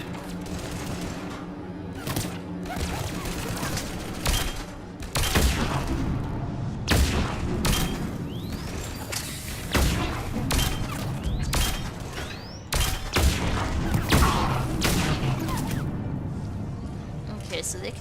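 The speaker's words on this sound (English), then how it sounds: "I'm switching back to that shotgun" Repeated shotgun blasts and scattered gunfire in the sci-fi shooter Mass Effect 3, loud and dense bursts across a busy battle with explosions and mechanical clatter, under intermittent talk.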